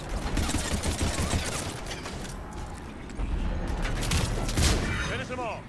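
Rapid gunfire and combat noise from the video game Mass Effect 3, dense bursts of shots and mechanical clatter running continuously, with voices talking over the battle.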